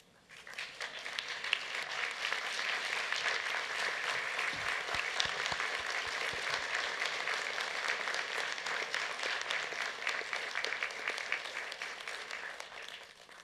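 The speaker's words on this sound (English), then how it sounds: "give them a rousing round of applause because they too have earned it" Sustained applause fills a graduation ceremony hall as graduates clap for their family and friends, a dense, steady wash of many hands lasting over ten seconds before tapering at the end.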